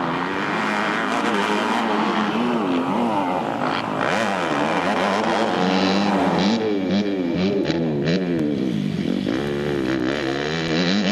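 Motocross bikes scream at high revs during an MXGP race at La Bañeza, Spain, heard onboard and up close, the pitch climbing and dropping sharply through gear changes and throttle blips.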